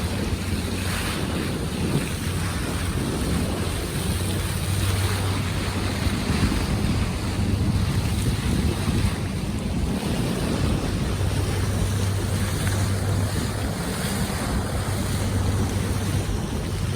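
A cruise boat travels across Lake Geneva from Geneva, with steady wind buffeting the microphone over rushing water and waves and a low engine hum, continuous throughout with no talking.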